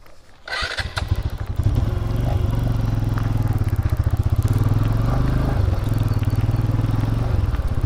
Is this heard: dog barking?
no